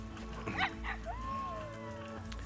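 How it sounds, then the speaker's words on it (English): Wolves in a den enclosure in the Planet Zoo game give a couple of short barks followed by a rising, drawn-out howl, fairly close and moderately loud over a low ambient hum. "You can hear wolves like crazy above us."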